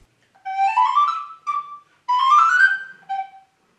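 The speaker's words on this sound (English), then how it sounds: "This one is called a descant recorder." A descant recorder plays four short melodic phrases, clear and close, with pure whistly tones and brief pauses between notes, alone without talking.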